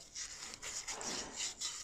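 Close, rhythmic scratchy scrubbing of a Scotch-Brite pad on a BMW E46 330d EGR valve in quick back-and-forth strokes, with no talking.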